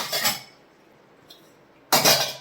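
Freshly washed dishes and utensils from an IFB dishwasher clink as they are lifted out, two bright metallic clatters about a second and a half apart with near silence between, close and fairly loud.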